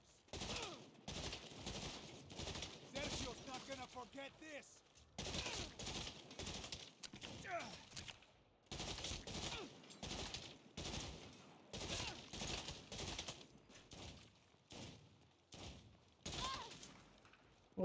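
Rapid bursts of gunfire aimed at an enemy gunner in the video game Saints Row, repeated volleys close and loud with brief gaps, and some talk mixed in among the shots.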